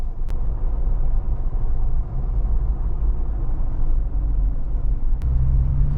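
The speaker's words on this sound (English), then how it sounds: "you don't notice a difference with the road noise. It's still reasonably quiet on the inside." Inside a GWM Tank 300 driving on the road, a steady low rumble of road and tyre noise fills the cabin, even and fairly quiet, with no talking.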